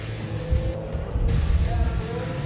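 Diesel drag race trucks launch off the line, an 03 Ford and a Dodge running nitrous, with a rough engine roar surging and rumbling at a distance under crowd noise.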